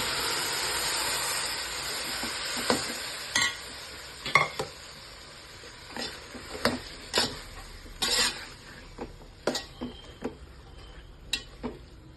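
Cooked bamboo shoots and beans are stirred in a hot pan for a bamboo-shoot stir-fry: a steady sizzle runs underneath while a spoon scrapes and knocks against the pan in irregular strokes, close by, with no talking.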